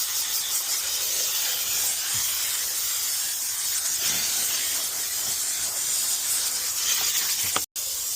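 A steam cleaner hisses continuously while cleaning a floor, a loud, close, steady spray with faint bumps and a brief cutoff near the end, no talk.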